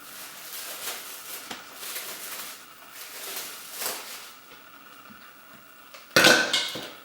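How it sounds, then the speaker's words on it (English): Frozen carrot cubes are popped out of flexible silicone freezer trays, giving soft scattered clatter and knocks through most of the stretch, then a sharp, louder burst of hard clinks and rattles near the end. "we can transfer them from these freezer trays into a labeled freezer storage bag"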